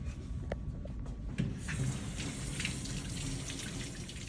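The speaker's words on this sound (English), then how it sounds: "Next, I'm going to wash my hands." Tap water runs steadily into a sink during handwashing in a nursing skills demonstration, a continuous close splashing hiss with small drips and no talking.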